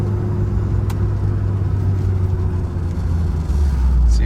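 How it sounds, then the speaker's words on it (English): A 1986 Dodge Daytona Turbo Z, a rattly car, idles and runs with a steady low engine rumble and faint turbo whine, nearby and moderately loud, with a slight rise near the end. "turbo noises"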